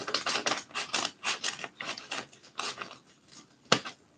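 Rapid rasping cuts repeat in short bursts as a blade cuts open a package, sawing through cardboard or tape, ending with one sharp louder snap.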